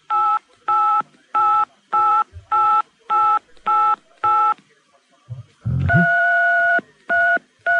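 A phone-in caller on the talkSPORT radio show punches telephone keypad tones down the line: a steady run of evenly spaced, loud beeps, a brief low thump, then one longer tone and two more beeps.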